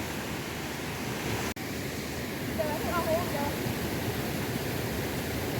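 Tat Heua Kham waterfall in a forest in Mahaxay, Laos, roars as a steady broadband rush of falling water. A single sharp click cuts in briefly, and a faint voice murmurs in the background.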